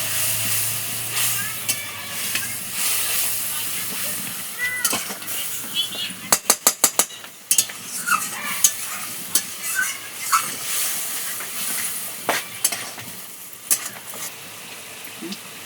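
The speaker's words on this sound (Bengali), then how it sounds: "গ্যার গ্যার শব্দ হলে তো মশলা কষানো হয়ে যাচ্ছে" Spices fry in hot oil in a home kitchen, sizzling and crackling throughout with sharp spatters and stirring scrapes, a steady hiss underneath while bursts of clatter rise and fall.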